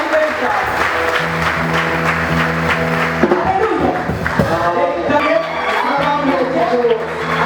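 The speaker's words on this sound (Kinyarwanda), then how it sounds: "Ego dukomere Imana amashyi menshi cyane" Church congregation applause rolls on under sustained musical tones from an instrument, with some raised voices mixed in, fairly loud and close throughout.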